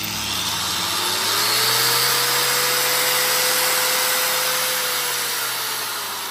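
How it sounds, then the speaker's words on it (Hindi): A Total 900 W variable-speed angle grinder powered from a solar inverter runs continuously nearby, its loud whine rising slightly in pitch as it speeds up and then holding steady, with no talking. "हम इसके ऊपर टोटल कंपनी की 900 वाट की वेरिएबल स्पीड वाली ग्राइंडर को चलाएंगे"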